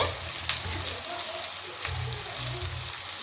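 Chopped tomato with salt and spices sautés in a pan, giving a steady close sizzle that runs under the whole stretch. A few faint scraping taps are heard, and there is no talk.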